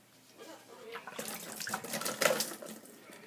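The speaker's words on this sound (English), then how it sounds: "and then to dump out all the old water" Old water splashes and gurgles as it is poured out of a small pet's water bottle, building from a trickle to a steady rushing stream, then easing off near the end.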